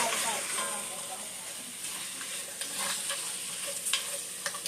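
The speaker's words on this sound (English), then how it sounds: "Once my onions and my green peppers cook down in" Onions and green peppers sizzle steadily in a pot for a hearty beef stew, a close, constant frying hiss broken by occasional clinks and scrapes of stirring, with no one talking.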